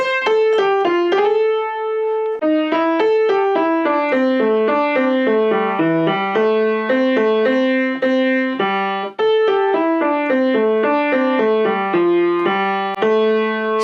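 A solo piano plays a quick, flowing melody line with a bass accompaniment, clear and continuous with a brief pause partway through; a piano arrangement of the guitar solo from a song.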